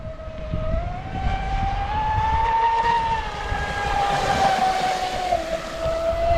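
An RC boat with an 1800kv electric motor runs at partial throttle, a sustained high motor whine that rises and falls slightly in pitch. The whine sits over a rough wash of water and wind, and no voices are heard.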